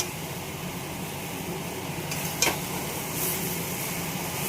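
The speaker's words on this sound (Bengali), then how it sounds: "মটন হচ্ছে, মটনের আলু কষানো হচ্ছে" Potatoes being sautéed in a pan for a shortcut mutton curry, a steady low sizzle with soft stirring scrapes and a brief clatter midway, constant and moderately close with no talking.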